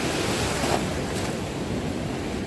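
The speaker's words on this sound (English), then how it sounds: "these waves just pushed me right on back" Ocean surf breaks steadily on a beach during surf fishing, a loud continuous wash of waves with wind buffeting the microphone and no voices.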